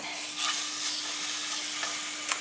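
Steady crackling sizzle of a partially frozen chicken thigh frying in a hot pan, with a few brief scraping touches over the continuous hiss.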